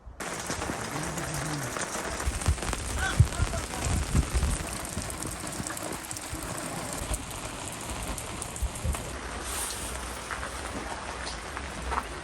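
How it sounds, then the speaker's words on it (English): Steady rain patters across a surface at a cabin in the Cariboo, a dense continuous hiss with occasional sharper drops, sustained and fairly close throughout. "It's raining."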